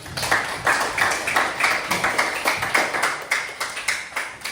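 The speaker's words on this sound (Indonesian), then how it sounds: "Tepuk tangan semuanya." An audience at a school guidance and counselling session claps in a steady, rhythmic pattern of sharp, evenly spaced beats that carry on for several seconds with no talking.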